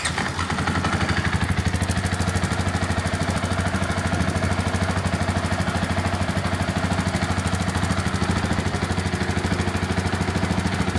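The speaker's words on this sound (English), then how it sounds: "So let me turn the bike on." A 2024 Husqvarna FE501S dual sport motorcycle runs close by, with a steady, rapid mechanical clatter and an even engine drone that holds at a constant level the whole time.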